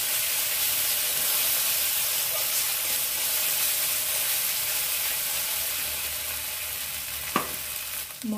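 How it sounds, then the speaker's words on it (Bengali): Spice masala frying in a pan gives a steady, close sizzling hiss throughout, with a brief clink of utensil near the end. "মশলাটা একটু ফ্রাই করে নেব, তারপর মটরশুঁটি পেস্টটা দিয়ে দেবো।"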